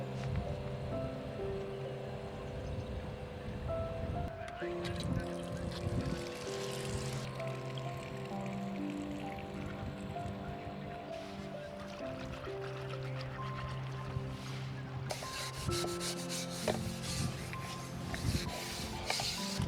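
Dishes are washed in a camper van sink on a road trip from Delhi to Ladakh, with a weak trickle of water, clattering utensils and scraping that run continuously beside a low droning hum.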